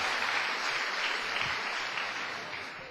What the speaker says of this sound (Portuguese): Então pode dar uma salva de palmas na minha época.